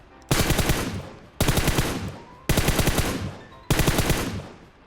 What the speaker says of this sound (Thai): ยิงแล้วกลบ